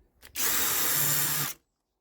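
A power drill countersinking screw holes in wood gives one loud, even whir of about a second, starting abruptly after a faint lead-in and stopping sharply.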